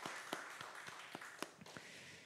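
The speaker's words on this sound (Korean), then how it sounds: "우리 하나님 앞에 영광의 박수, 우리 감사의 박수를 올려드립시다" A church congregation claps together during a Sunday service, a few spaced sharp claps spread over a couple of seconds, faint and somewhat distant.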